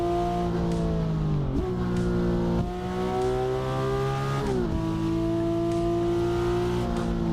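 Hyundai Genesis engine in a driving simulator video game, revving and shifting through gears with rising then dropping pitch and brief tire squeal, loud and continuous with no talk over it.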